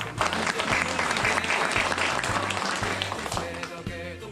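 An audience at a Korean volunteer patrol association's sisterhood ceremony and welcome event claps steadily, loud and close. A low rhythmic background sound runs underneath the applause.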